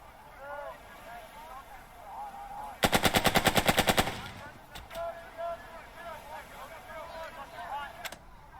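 Gunfire in the tactical war game Burden of Command, a sharp burst of rapid automatic fire lasting about a second, followed by a few scattered single shots over low ambient battlefield sound.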